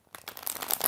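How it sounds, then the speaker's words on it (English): Tarot cards being shuffled close up, a short papery riffle that builds in loudness over under a second, with no talk. "Four shuffles."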